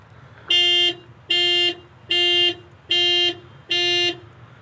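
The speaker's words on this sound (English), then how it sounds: "So it basically just beeps the horn" A 2018 Toyota Corolla LE's panic alarm honks the horn five times in a steady, evenly spaced rhythm, loud and close, with quiet background noise between the blasts.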